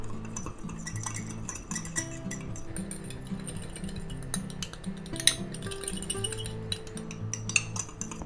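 Smoked paprika and thyme being mixed with metal utensils in a small dish, a run of light clinking and scraping taps, close and fairly steady, with a faint tonal hum beneath.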